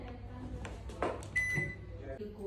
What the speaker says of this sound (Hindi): बाबा ने आज मुझे दिए हैं noodles, जिसको मैं अभी oven में थोड़ा सा heat करूँगी